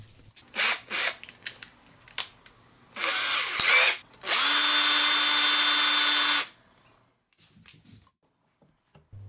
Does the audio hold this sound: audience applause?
no